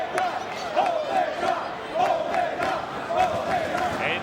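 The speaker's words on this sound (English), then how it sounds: "And you hear the chants now, Omega, Omega." A wrestling crowd at a Ring of Honor event chants "Omega" in a rhythmic two-beat pattern, repeating several times in swelling waves across the arena.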